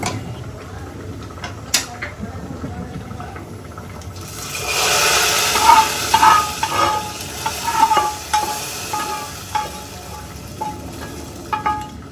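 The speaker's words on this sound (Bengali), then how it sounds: "এই যে এখানে সব কিছু ফোড়ন দিয়ে নিচ্ছি" Whole spices crackle as they are tempered in hot oil for khichuri. The first few seconds are quiet, then a loud hissing sizzle swells and carries on with a few scrapes and small pops, close by.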